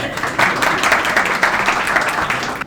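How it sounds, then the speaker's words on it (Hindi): Applause from an audience at an Urdu poetry recital as a female poet is welcomed to the stage, a dense, steady patter of many hands clapping that holds for the whole stretch with no pauses. "आप लोग तालियां बजाएंगे"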